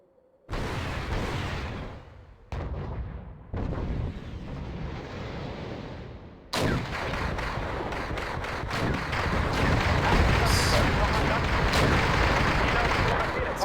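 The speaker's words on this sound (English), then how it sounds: "they're already starting to shoot" Artillery and gunfire in the Wargame: European Escalation battle, loud rumbling blasts and crackling shots that start abruptly and build into a dense, continuous barrage.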